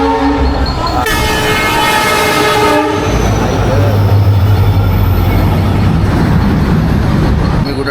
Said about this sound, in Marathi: ट्रेन आलं त्यामुळे काय बोलता आलं नाही